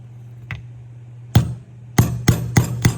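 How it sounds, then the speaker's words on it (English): A hammer drives a pin into a Yugo SKS M59/66 rifle: a faint tap, then a single sharp strike, followed by four quick, loud metallic blows in a steady rhythm, close up with no talking. "So when you hammer it in, it just goes straight in."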